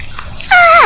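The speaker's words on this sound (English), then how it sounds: "the chirp of a porcupine, which sounds like this" A short porcupine chirp, a close, loud squeaky tonal call that rises then bends downward in under half a second, following a moment of soft background noise.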